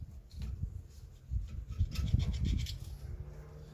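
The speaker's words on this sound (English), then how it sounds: "you just use a screwdriver and a rag inside and just go around it." Scraping and rubbing of a screwdriver wrapped in a rag working around the inside of a seized front brake caliper on a JDM Subaru Legacy, a steady close rasping scrub with louder strokes in the middle, no talking.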